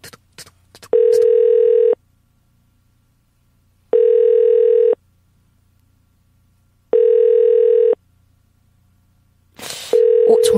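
A telephone dial tone sounds in steady, evenly spaced beeps of about a second each, loud and clear with no talking over it, ending with a brief rustle before the tone resumes.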